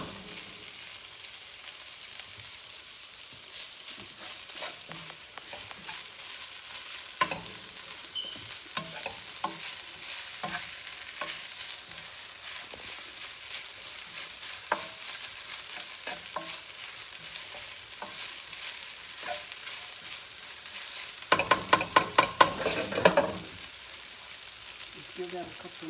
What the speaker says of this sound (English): Let this heat thoroughly to get all the flavors from the Cajun sausage blend into your rice.